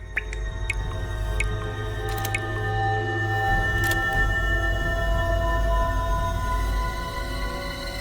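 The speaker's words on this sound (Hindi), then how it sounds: "ये पानी कहां से टपक रहा है?" Water dripping in a shut, empty apartment: scattered sharp little drips early on over a constant low hum and faint tonal whine, no voices.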